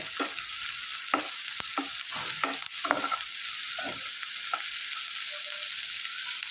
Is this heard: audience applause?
no